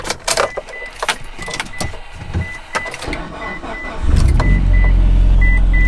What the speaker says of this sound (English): I gotta start my car, move it out of the way